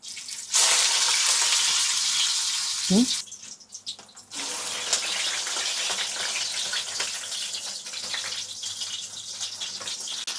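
Gourd pieces for stuffed vegetables sizzle in a frying pan with a steady, hissing fry that breaks off briefly for about a second and then resumes at a slightly lower level, close and continuous with a faint voice underneath.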